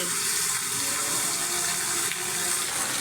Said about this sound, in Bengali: অনেক বৃষ্টি হচ্ছে, অনেক পানি জমে গেছে